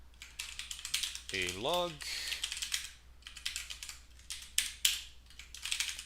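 Computer keyboard typing in clustered bursts of quick keystrokes, close and fairly loud, with a brief spoken phrase partway through.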